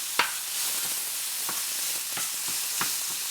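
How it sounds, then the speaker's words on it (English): Chopped sausage browns in a hot pan, giving a steady, dense sizzle close up, broken by a few louder crackles and stirring scrapes, with no talk. "start chopping up our sausage here. Yep, it's sizzling good."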